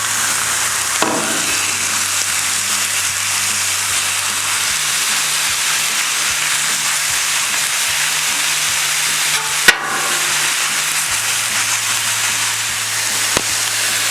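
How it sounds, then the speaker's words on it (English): Tri-tip steak sizzling on an outdoor griddle, a loud, constant close-up hiss that holds steady, with a couple of faint clicks and a low hum beneath. "Let's get this steak on."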